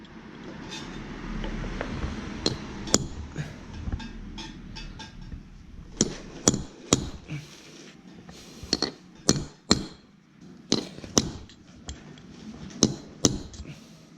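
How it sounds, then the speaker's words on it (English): Hammer blows on a pointed steel drift burring over bolts on a motorcycle starter clutch, heard as a series of sharp metallic strikes, sparse at first and then in quicker pairs and clusters, close by against a low background hum. "we're going to hit these bolts and burr them over a bit"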